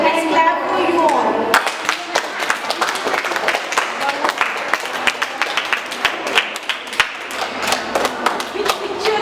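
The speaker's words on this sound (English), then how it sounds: "Let's clap for you all." An audience claps after a children's performance at a Diya and Rangoli competition, a burst of close, uneven clapping that fades to scattered claps, preceded by a brief voice.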